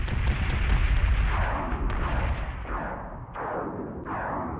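Repeated cannon fire from a frigate in the space combat game Battlestar Galactica Deadlock, a dense run of loud booming shots and rumbling blasts that fade and return at a steady rhythm, with no talking.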